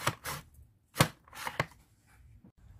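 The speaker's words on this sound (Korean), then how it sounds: "당근 채 썰어 보겠습니다." Carrot being cut into julienne strips on a handheld slicer, giving a few sharp, close chopping strokes at an uneven rhythm with short pauses between them.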